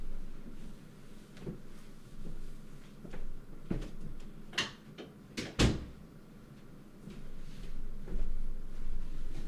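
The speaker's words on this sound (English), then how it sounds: "Let me go close the door for her real quick." A real door being closed at home, with a few knocks and a sharp clunk and thud as it shuts, amid faint shuffling and handling noises, with no talking.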